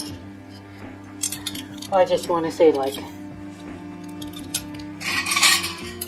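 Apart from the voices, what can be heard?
mangled sterling silverware scrap clinking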